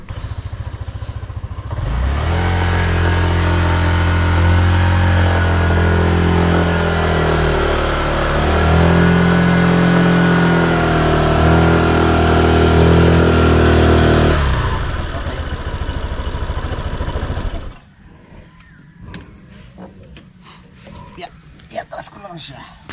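A motorcycle engine runs loud and close for about thirteen seconds, with its pitch swelling and dipping, then cuts off abruptly and leaves quieter background noise and people talking.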